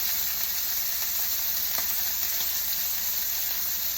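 A steak fries in a hot pan, cooking toward medium rare, giving a steady, close sizzle throughout with a faint pop or two and no talking.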